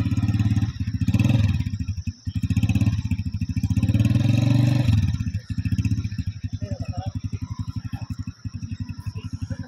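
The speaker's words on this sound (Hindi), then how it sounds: "ये अभी उस लड़के को मोटरसाइकिल पे लेके जा रहे हैं" A motorcycle carries a boy away from a rabbit farm in Attock, its engine chugging loud and close with rhythmic firing pulses that swell and ease as it revs and pulls off; voices talk over it.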